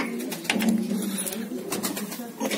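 Soft, low cooing of a pair of white pigeons close by at their nest, with rustling and faint background chatter around them.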